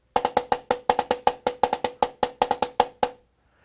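A snare drum plays quick grouped strokes in a lilting triplet feel, a steady run of crisp hits that stops cleanly, close and fairly loud.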